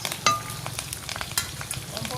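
Crushed garlic cloves sizzle in a hot tempering of oil with curry leaves, a close crackling fry with a sharp metallic clink of a spoon against the pan and a few scraping stirs, no voices.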